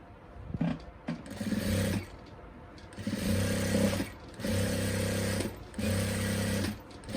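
A sewing machine stitches a plain salwar in several close, loud bursts of rapid needle whirring, each lasting about a second or two with short pauses between, and brief faint handling sounds in the gaps.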